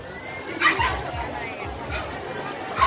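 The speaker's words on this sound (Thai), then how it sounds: "แล้วก็สุนัขนะครับ" Dogs bark and yip in short bursts amid the crowd chatter of a big dog show at a shopping mall, with someone talking over the barking.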